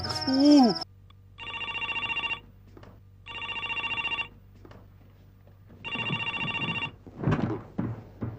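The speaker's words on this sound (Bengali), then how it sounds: "হ্যালো সাথী ফোন করেছিলে" A telephone rings in a Bengali comedy scene, three bright electronic rings with pauses between them over a low hum, ending in a short clatter and a brief voice.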